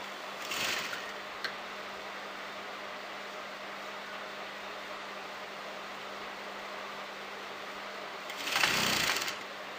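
A sewing machine stitches lace onto fabric for a kameez, running as a steady, even mechanical whir for nearly ten seconds, close and fairly quiet, with brief louder bursts of motor noise near the start and end.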